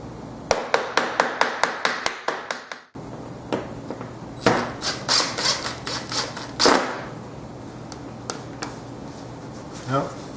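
Sharp tapping blows knocking pieces out of a workpiece, a quick run of about ten evenly spaced near taps, then a second, more irregular burst of heavier knocks and clatter with a steady hum underneath.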